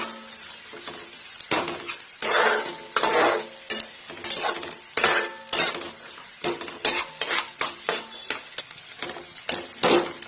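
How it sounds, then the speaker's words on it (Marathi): Peanuts fry lightly in a pan for kande pohe while a spoon scrapes and stirs them in repeated, fairly loud strokes over a steady sizzle. Occasional clinks of metal ring out, and no one speaks. "आपल्याला जास्त फ्राय नाही करायचंय, थोडंसं फ्राय करायचंय"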